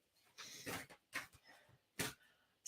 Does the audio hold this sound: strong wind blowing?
no